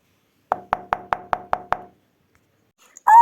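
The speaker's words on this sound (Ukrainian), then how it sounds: "Ой, хто до мене стукає?" Seven sharp knocks on a door come in a steady, evenly spaced run, close and clear against silence, followed by a short voice at the end.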